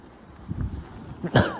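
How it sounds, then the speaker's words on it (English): After some low throaty rumbling, one sharp cough bursts out near the end, close and fairly loud. "I'm not even coughing that much anymore."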